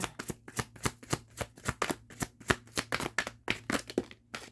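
Tarot cards are shuffled and drawn from a deck close up, a quick run of crisp papery flicks and snaps in an uneven rhythm, with no talk.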